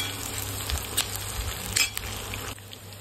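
Onions fry in a pan until browned, giving a soft close sizzle broken by several light clinks and scrapes of a utensil against the pan, with no voices.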